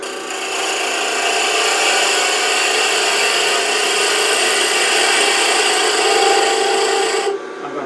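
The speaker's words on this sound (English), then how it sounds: "I'm going to take a peeling cut on this side with a beading and parting tool" A beading and parting tool takes a peeling cut on spinning wood on a lathe while turning a salt shaker, a loud, steady rasping scrape lasting several seconds before stopping abruptly near the end.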